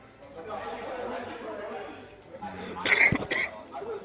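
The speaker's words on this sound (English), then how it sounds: "Did you have to cough in my ear?" A sharp cough bursts into a headset microphone during a live esports broadcast, one loud harsh burst followed by a smaller second one, heard over background chatter and voices.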